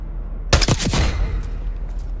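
Gunfire in the Call of Duty Black Ops 6 campaign: a short, loud, close burst of rapid shots, followed by a fading echo.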